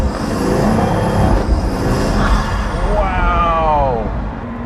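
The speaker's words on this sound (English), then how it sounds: "All the sound, the turbos, the spooling going in and out" A performance car's exhaust drones while its turbos spool up and down, rising and falling whistles sweeping through the engine noise as it accelerates, heard from inside the cabin.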